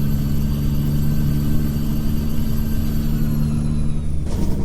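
A Peterbilt 379 truck idles in American Truck Simulator with a steady, loud, low rumbling drone and a faint high whine above it, continuous and close with no talk.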